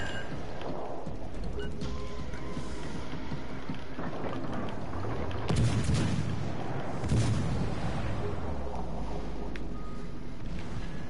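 Naval gunfire from warships in World of Warships Legends, booming shots rolling out at intervals over a steady rumbling sea and engine bed, with a couple of heavier blasts midway.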